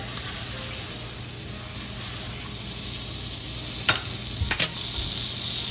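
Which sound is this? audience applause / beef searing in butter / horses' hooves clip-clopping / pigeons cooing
beef searing in butter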